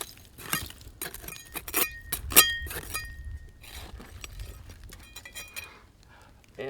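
Old glass bottles, some fire-damaged, recovered from a woodland mound, clink and knock against each other as they are handled, giving a series of close, sharp, ringing chinks in irregular bursts.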